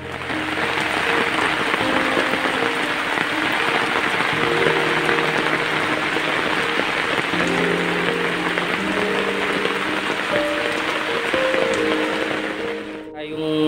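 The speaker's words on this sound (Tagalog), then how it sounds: "dito pa tayo inaabot ng ulan." Heavy rain pours down in a constant, dense roar that stays loud for the whole stretch, with faint voices murmuring underneath.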